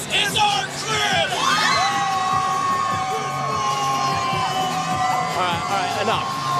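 A loud arena crowd of basketball fans at a Florida Gators home game against Kentucky cheers, whoops and yells continuously, a dense sustained roar with shrill shouts rising over it.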